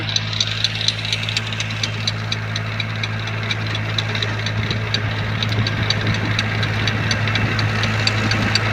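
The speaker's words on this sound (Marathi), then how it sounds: "हे बघा ट्रॅक्टर कसे येत आहे" A farm tractor's diesel engine chugs steadily up close with a low, knocking rumble, holding an even throb throughout with no voices.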